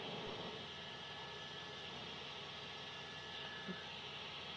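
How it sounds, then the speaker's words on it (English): A news helicopter hovering over a nighttime police chase after a speeding suspect, its steady rotor and engine drone filling the air as a continuous, even wash of noise with no voices. "News Chopper 4 Bravo, along with my pilot, David Viskovich."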